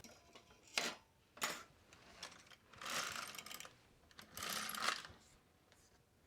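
Knitting machine carriage sliding across rows of plain stockinette stitch, with sharp clacks and longer rasping sweeps in an uneven rhythm at moderate closeness, quiet between passes and no talking.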